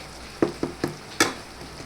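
Okra cooks in oil in a pan for a Gujarati curry, a low sizzle broken by five quick spatula scrapes, the fourth loudest, with no talking.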